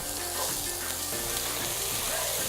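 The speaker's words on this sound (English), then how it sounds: "Then we're gonna add our onions to the pan with the butter." Onions sizzle steadily in butter in a cast iron skillet, giving a dense, continuous frying crackle at close range with a faint stirring underneath.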